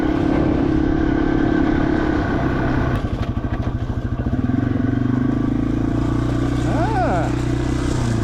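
A Yamaha TW200 motorcycle rides along an abandoned railroad bed over eroded, deep gravel, its steady engine drone loud and close with wind rush, a brief throttle change midway, and a rider talking over it.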